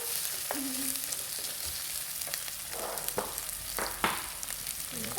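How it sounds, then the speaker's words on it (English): Green chilies and onion sizzle steadily in hot oil for a salmon fish curry, with a spoon scraping and stirring the pan in intermittent knocks, close and continuous. "Then immediately add the onion. Then mix it well."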